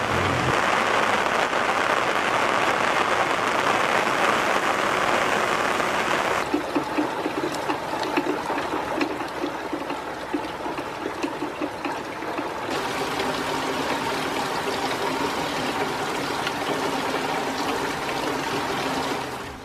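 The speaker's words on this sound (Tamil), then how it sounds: "நாகை மாவட்டத்தில் காலை முதலே பலத்த காற்றுடன் கனமழை." Heavy rain falling with strong wind during a morning downpour in Nagapattinam district, Tamil Nadu: a dense, steady hiss of rain on surfaces that holds loud and unbroken throughout, with no talk.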